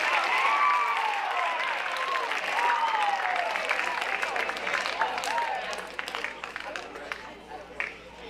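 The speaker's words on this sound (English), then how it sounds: "So let's give them one big round of applause." Audience at a junior high academic awards ceremony applauds, steady clapping that fades gradually toward the end, with faint voices mixed in.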